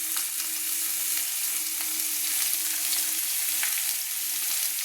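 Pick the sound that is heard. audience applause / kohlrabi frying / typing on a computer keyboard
kohlrabi frying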